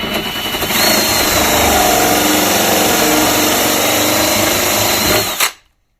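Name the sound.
battery drill drilling into wood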